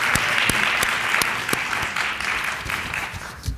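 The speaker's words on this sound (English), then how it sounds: "Another hand of applause." Audience at a college convocation clapping steadily, a dense, even wash of applause with a few sharper individual claps standing out, sustained at a fairly constant level throughout without any voices.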